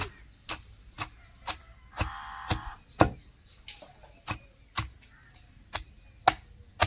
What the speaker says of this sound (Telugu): మనం రోట్లో దంచుతున్నాం కాబట్టి చాలా బాగుంటుంది